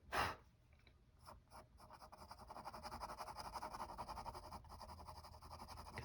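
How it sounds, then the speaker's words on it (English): An H pencil draws along an edge on paper, giving a faint, close, continuous scratching with a few brief strokes at the start. "Take my H pencil and go back along this edge."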